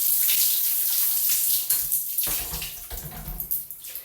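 Running water splashes steadily while hair is rinsed in a shower, the flow breaking into uneven gushes and spatters near the end, close and fairly loud with no talking.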